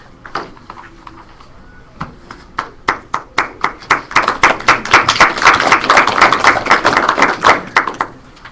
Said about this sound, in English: They always applaud when I'm done.